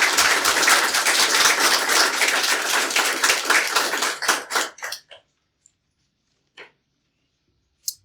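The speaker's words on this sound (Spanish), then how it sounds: "Dale un aplauso a Jesús" A church congregation claps together, a brisk rhythmic burst of many hands that thins out over about five seconds into a few last scattered claps, then near silence with a couple of faint taps.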